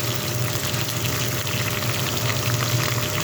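Stuffed bitter gourds fry in a pan with a steady, close sizzle and faint bubbling that runs the whole time with no talking.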